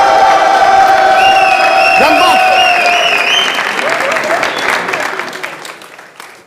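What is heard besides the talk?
audience cheering and applauding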